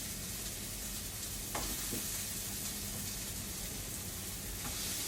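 Potato roasties sizzle and fry steadily in a non-stick pan, a continuous close crackling hiss with a couple of brief stirring scrapes and no talking.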